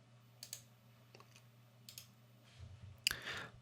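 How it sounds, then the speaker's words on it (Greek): Computer mouse right-clicks, several soft, isolated clicks over steady low hum, followed by a louder burst of clicking and handling noise toward the end. "Ξανακάνουμε δεξί κλικ και μετά πατάμε paste after."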